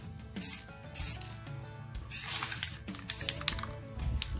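Several short hissing bursts of an aerosol spray paint can coating Beskar armor, spaced a fraction of a second apart, with a longer spray in the middle, up close.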